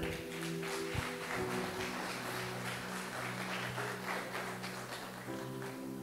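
Church congregation clapping steadily together, a dense sustained patter of applause with organ or keyboard tones sounding underneath, moderately loud.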